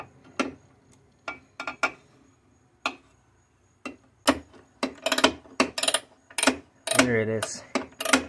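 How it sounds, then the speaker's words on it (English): Ratchet clicking as it turns a bolt on a Craftsman table saw motor, with short bursts of clicks scattered between pauses, close by, and someone speaking briefly near the end. "let me see if I can use a ratchet."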